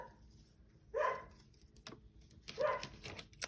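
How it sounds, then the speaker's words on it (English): An anxious border collie gives two short, muffled barks about a second and a half apart, with faint whimpering and light shuffling between them, moderately close indoors. "My dog's just getting anxious about something going on, so I apologize. She's a border collie"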